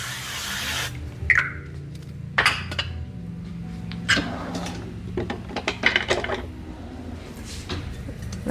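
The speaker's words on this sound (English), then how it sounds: "I don't have olive oil, but I do have this avocado spray" A short hiss of avocado oil cooking spray near the start, followed by clinks and clatter of kitchenware and a pan being handled.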